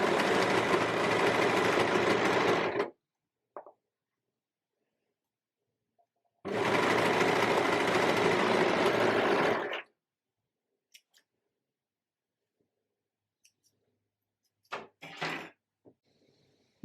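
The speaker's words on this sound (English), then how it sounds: "I'll just place this under my needle and sew straight down here." A sewing machine stitches through four layers of fabric in two steady, loud runs of about three seconds each, separated by silence and followed by light handling clicks.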